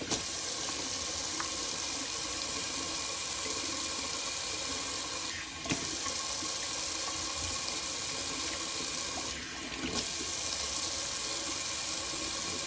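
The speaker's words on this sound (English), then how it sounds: "Now we'll do a little cold water rinse on the face." A bathroom tap runs steadily for a cold-water face rinse after a shave, a constant close hiss of flowing water with two short dips where hands break the stream.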